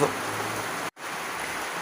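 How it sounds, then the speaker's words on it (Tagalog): Heavy storm rain hisses steadily as a dense, even wash of noise, broken by one abrupt silent cut midway, then continuing at the same close, moderate level. "malakas ang ulan, may bagyo yata"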